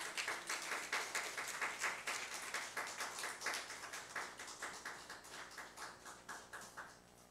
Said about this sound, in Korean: 우리 하나님 앞에 감사하면서 크게 환영의 박수로 맞이하겠습니다